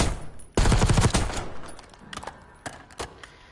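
Gunfire from a low-recoil weapon in Black Ops 6 opens with a loud sustained burst of rapid automatic shots, then tapers into a few scattered, quieter single shots and short bursts.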